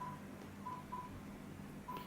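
A car's Android head unit plays short, evenly pitched dialing beeps, four separate tones spread across a quiet stretch, with a soft background hiss and no speech.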